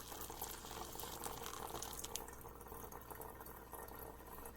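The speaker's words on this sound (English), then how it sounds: "Got my hot water kettle right here." Hot water from a kettle pours into a glass pour-over coffee maker in a steady, continuous splashing stream, close and fairly quiet, with no one talking.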